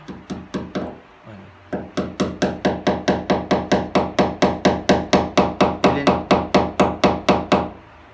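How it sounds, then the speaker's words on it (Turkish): Steady hammer blows drive a nail into a wooden picture frame, about twenty sharp, evenly spaced strikes after a few opening taps, loud and close with no talking. "Çiviyi de buraya çakacağım."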